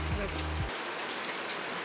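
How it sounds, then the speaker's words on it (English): Steady, dense patter of heavy rain on a tin roof, continuous hiss throughout, with a brief low voice at the start. "It sounds like it's really raining a lot worse than what it is."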